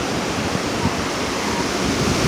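Ocean waves rolling onto San Clemente Beach at sunset: a steady, close, broadband wash of surf that stays loud and even throughout, with no clear gaps between breakers.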